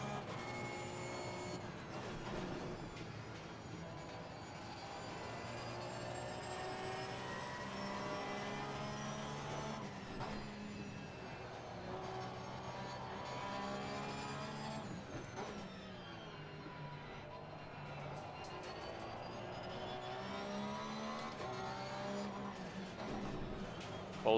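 A Porsche 991 II GT3-R racing engine in Assetto Corsa Competizione screams up to its 9,000 RPM limiter, loud rising and falling harmonic howls through repeated gear changes, continuous and close throughout.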